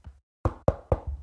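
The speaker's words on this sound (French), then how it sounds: "Et là, devant la porte, il frappe." Knocking on a door: after a short low thud, three sharp raps in a quick irregular rhythm, close and fairly crisp, with no talking.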